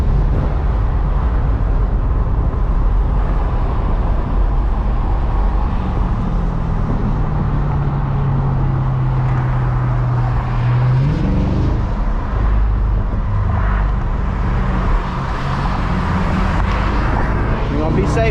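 Corvette C8 driving in traffic in Malibu, a steady engine drone and road roar with a brief rising tone, while people talk over it throughout.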